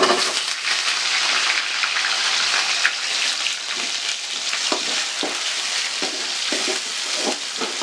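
Small onions sautéing in a pan with garlic, a loud continuous crackling sizzle with bursts of popping and stirring throughout, close up and without talk.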